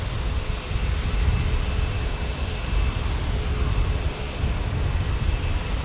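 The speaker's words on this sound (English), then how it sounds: "our United 737 MAX is finally out of the penalty box, going to San Francisco and lined up holding short on Charlie 2" A United Boeing 737 MAX holds short on a taxiway at San Diego's busy single runway, its engines a steady, broad roar with a faint high whine carried outdoors from a distance.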